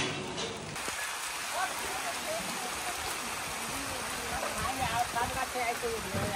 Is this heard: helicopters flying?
no